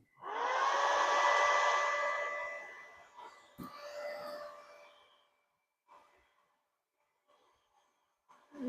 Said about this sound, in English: You could hear the fan is turning.